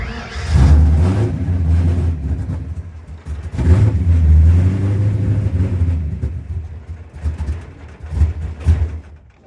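A jump-started project car's engine rumbles loudly and revs repeatedly in surges across the clip, struggling to hold a steady idle between bursts, close by with no talking.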